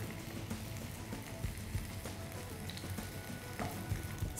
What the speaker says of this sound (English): So the oil is hot now. We'll add the slices. We'll cook both the sides until they are golden brown.